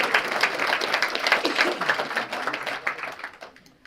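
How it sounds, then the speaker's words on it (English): Wedding guests applaud together in a steady burst of clapping that gradually thins and fades out toward the end, with no talking over it. "If you give him a round of applause."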